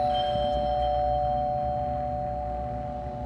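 A doorbell chimes in the morning, a sustained ringing tone held steady for a few seconds over a faint background hum, with no voices.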